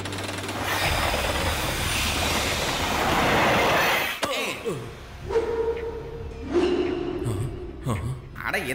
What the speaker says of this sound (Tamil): இந்த ட்ரெயின் கண்ட்ரோல்லே இல்லையே.